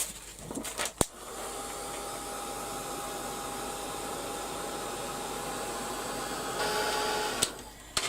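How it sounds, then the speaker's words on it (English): A heat gun blows a steady whooshing hum over a craft card for an autumn design, starting after a sharp click and running alone until it stops with another click near the end. "I just want to dry this off now. And I'll use my heat gun"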